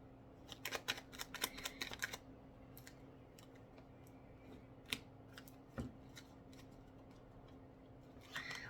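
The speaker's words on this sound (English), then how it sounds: "I was shuffling cards there" Brisk bursts of tarot card shuffling, quiet and close, with crisp riffling clicks in short flurries, then scattered single taps and another flurry at the end.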